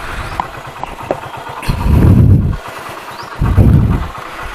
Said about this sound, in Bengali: একদম গম্ভীর সাউন্ড